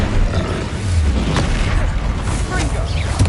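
Incendio fire spell cast in Hogwarts Legacy on PS5, a booming burst with a short crackling flare among other spell blasts, the game's rumbling mix running throughout at moderate loudness.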